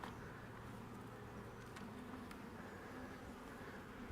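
Honeybees from a small swarm colony hum in a steady, faint buzz around an open hive, a soft continuous drone with a few brief clicks.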